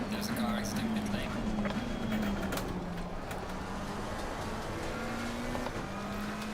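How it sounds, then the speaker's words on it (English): A McLaren 720S Evo race car in Assetto Corsa Competizione at Zandvoort drones on in a steady engine hum whose pitch rises and dips slightly, with a commentator talking over it throughout. "There's a car exiting pit lane."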